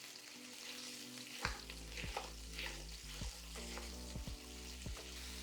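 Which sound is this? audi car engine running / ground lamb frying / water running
ground lamb frying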